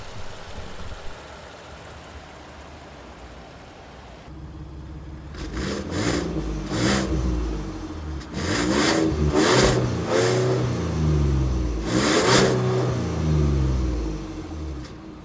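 A 2019 Ford F-150 Limited with a high-output 3.5-liter twin-turbo V6 revs up in several loud, rising bursts after a quieter idle, each rev climbing and falling back, close by with no talk.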